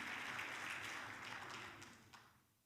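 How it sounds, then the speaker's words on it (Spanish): A church congregation applauds the mothers during a Mother's Day celebration: broad, fairly soft clapping from many people that holds steady, then thins out and fades toward the end. "Denle un fuerte aplauso a las madres."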